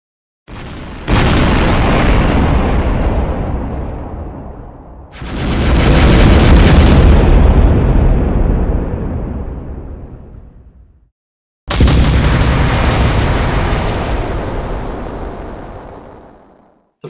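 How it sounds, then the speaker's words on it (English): Cannon fire bombards a fort: three heavy, loud booms, each a sudden blast that rumbles and decays over several seconds, separated by short pauses. "These guns have devastating power, and given time, will destroy the fort."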